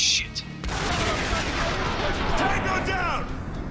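Video game gunfire and explosions in Spec Ops: The Line come as a loud, dense barrage of booming bursts that fill the whole clip, with a voice briefly audible underneath.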